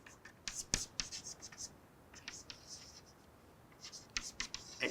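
Chalk or marker writing on a board during a lecture: quick scratchy strokes and taps in short clustered bursts with pauses between, close and fairly faint, no talking.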